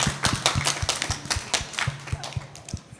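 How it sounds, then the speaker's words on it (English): A classroom group applauds after a student shares thoughts at a growth mindset session, dense overlapping hand claps rising and falling steadily, close and fairly loud, with a faint murmur of voices underneath. "Applause."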